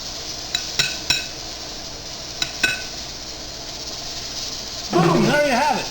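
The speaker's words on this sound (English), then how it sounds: "Mix it with a spoon. I'm just going to mix it. Round and round." A spoon stirring potato salad in a bowl gives a few close clinks and scrapes over a steady hiss, then a voice speaks near the end.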